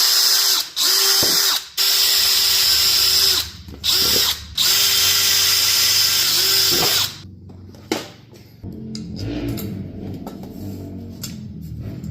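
A power drill boring holes for teardrop trailer hardware: loud, close whining bursts broken by short pauses for about seven seconds, then quieter ratcheting and clicking handling sounds.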